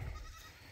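A goat in a herd being moved through woodland gives a short bleat, close and fairly loud at the start, fading into quiet outdoor background.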